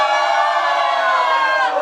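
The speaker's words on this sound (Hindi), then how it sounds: "मारिया की फैमिली एक बार हूटिंग करके दिखाओ" Maria's family hoots and cheers as a crowd at a sangeet and engagement celebration, a loud, sustained wall of shouting voices with a few whoops rising over it.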